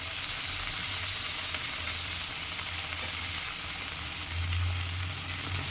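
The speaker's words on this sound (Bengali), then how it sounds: "তো এবার আমি ক্যাপসিকাম দিয়ে দেবো।" Capsicum tossed into chicken liver and gizzard already sizzling in a hot pan, giving a steady close frying hiss with a louder burst of sizzle near the end.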